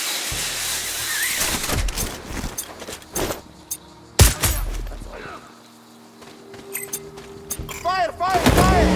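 Sharp gunfire bursts crack repeatedly over busy background noise in the video game Sniper: Ghost Warrior Contracts 2, with a big boom midway and more shots toward the end.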